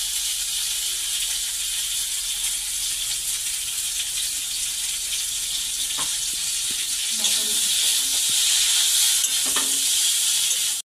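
Food frying in hot oil in a pan during home cooking, a loud, steady sizzle close by throughout, with occasional scrapes and taps of a stirring utensil and faint voices in the background.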